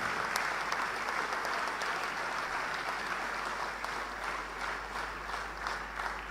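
Sustained applause from a crowd at a sports award ceremony in Bhopal, dense and even throughout, heard at moderate distance with a low hum beneath.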